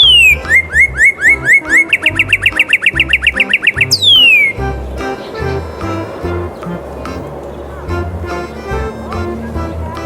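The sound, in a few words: male cardinal bird song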